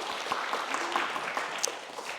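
A church congregation at a Sunday service in Berlin claps together, a short burst of steady moderate applause in a reverberant room with no talk over it.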